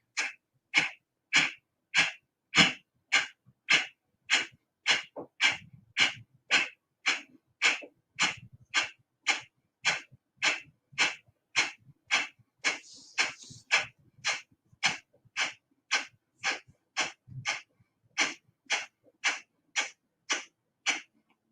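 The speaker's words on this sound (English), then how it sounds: "So that's called Kapalabhati breathing" Kapalabhati yoga breathing: about thirty forceful, evenly spaced nasal exhalations in a quick steady rhythm, each a sharp close puff followed by a brief quiet gap, with no talking.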